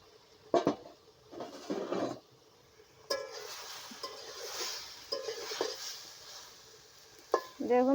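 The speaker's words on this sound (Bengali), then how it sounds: "ঢাকনা তুলে দেখব" A lid coming off a pot of simmering potato and cauliflower: scattered metallic clanks and scrapes, close by, over a soft background murmur of cooking.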